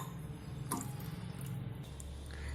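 Water is poured into a cooking pot on a lit gas stove to make kadha, a soft continuous splashing and trickling at close range, with no talking.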